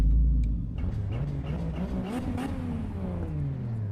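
A car engine in Assetto Corsa EVO, a non-competitive fun car, revving up through its range with a rising, rumbling drone that stays steady and close.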